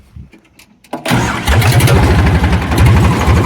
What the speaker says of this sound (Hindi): तो भाई अब करते हैं ट्रैक्टर को स्टार्ट।